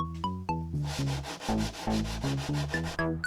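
Hand sanding a wooden table saw insert, brisk rhythmic back-and-forth rasping strokes, close and fairly quiet, with no talking.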